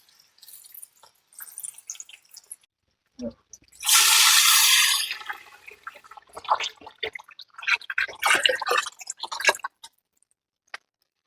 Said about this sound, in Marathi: आता आपण ह्याच्यामध्ये पाणी घालून घेणार आहे